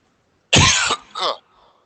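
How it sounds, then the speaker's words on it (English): A single harsh cough followed by a shorter second cough, close and loud, in an otherwise quiet room. "I'm going to cough."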